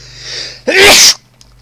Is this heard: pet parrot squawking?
no